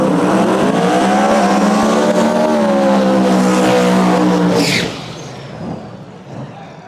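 A turbo no-prep drag race car holds a loud, steady high-revving burnout for several seconds, then the engine note drops sharply and fades into quieter track ambience.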